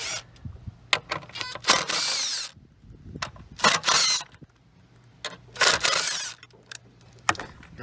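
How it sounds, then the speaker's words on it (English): EGR cap bolts on a Dodge Ram 2500 6.7 diesel truck being removed with a 5/16 socket, heard as several loud, close bursts of a power driver whirring, separated by short quiet gaps. "I'm gonna remove the cap on top, so I'm using a 5/16 socket."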